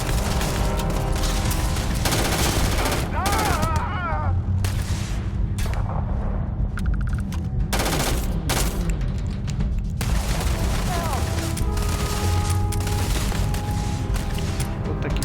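Gunfire in the Starfield space game, loud bursts of rapid shots and booms running almost continuously through a chaotic firefight.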